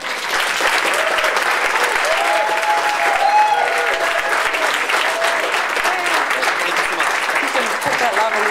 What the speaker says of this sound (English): stand up and give a really loud, big, warm round of applause for Joachim.